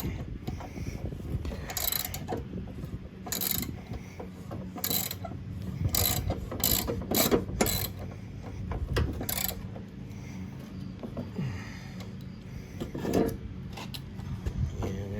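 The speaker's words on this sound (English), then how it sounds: "grab the wrench, and we're just going to do a basic tightening now" Close-up wrench work tightening the mounting bolts on new blades of a riding mower, with repeated sharp metallic clicks and ratcheting bursts in an irregular rhythm over a low background hum.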